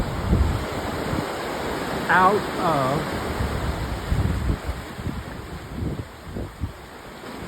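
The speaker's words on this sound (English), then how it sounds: "the wave crashing down" Ocean surf breaking and crashing near shore, a continuous broadband roar with swelling surges throughout and a brief spoken voice partway through.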